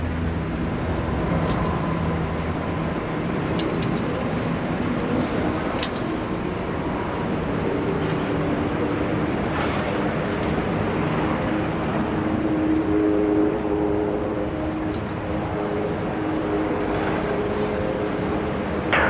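An airliner lands on runway 16 right at Sydney Airport, heard as a steady broad rumble that persists throughout with faint clicks over it.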